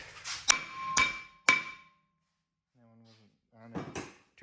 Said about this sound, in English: So now I need to smack the rotor with a hammer